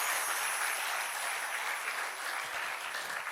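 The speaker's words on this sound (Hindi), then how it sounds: "इसके लिए ताली बजानी पड़ेगी भैया" An audience at a religious discourse on devotion claps steadily and densely, a full round of applause that holds at the same level throughout with no voices over it.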